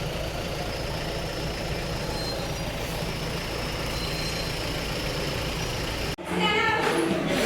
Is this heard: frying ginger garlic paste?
no